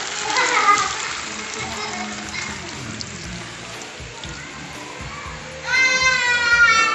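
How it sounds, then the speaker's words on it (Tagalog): Ginataan of coconut milk with banana and cassava comes to a boil in a pot, giving a steady bubbling sizzle that runs throughout, loud and close, with a brief burst of another sound near the end. "So, kumulo na siya."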